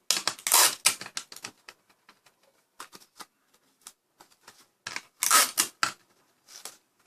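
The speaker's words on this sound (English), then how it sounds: "Now all I'm doing is just taping it so it won't open." Tape being pulled and pressed onto a paper Wall-E model to hold it shut, heard as sharp crackling rips and small taps that come in bursts separated by quiet gaps, close and clear.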